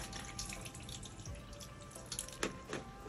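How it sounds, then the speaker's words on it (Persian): Cold tap water runs over cooked jumbo shell pasta in a kitchen sink, giving a steady, quiet splashing and trickling with a few brighter spatters, no voices. "با آب سردم میشورمش."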